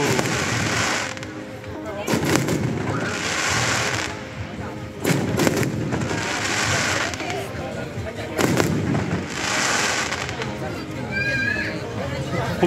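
Fireworks burst repeatedly at the opening-day festival of the 2023 Great Baekje Cultural Festival, loud booming explosions in several clusters with crackling between them, while a crowd murmurs and people talk nearby.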